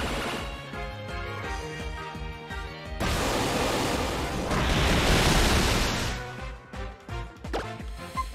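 A Waterfall attack in Pokemon X hits as a loud rushing surge of water noise, swelling and crashing for several seconds before breaking into sharper game effects, with no talk.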